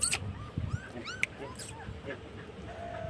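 Dog giving high whimpers and short yips at close range, scattered over a few seconds alongside a person talking.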